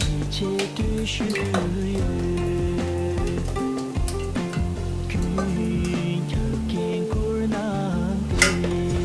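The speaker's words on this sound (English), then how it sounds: "Next, add cornstarch sauce." Cornstarch sauce going into a sizzling pan while making kimchi, a loud continuous sizzle with repeated metal utensil clanks against the pan and scraping stirs throughout.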